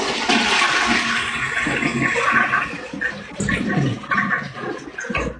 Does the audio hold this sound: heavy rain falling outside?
no